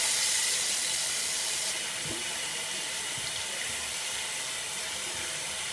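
Water runs steadily from a tap into a sink during handwashing, a continuous close hiss and splash that holds evenly throughout with no talking.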